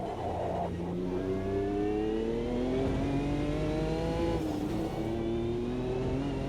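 An LMP2 race car engine in Automobilista 2, a loud continuous drone with rising pitch as the car accelerates through the gears, then a brief dip at a gear change before it climbs again, with no talk over it.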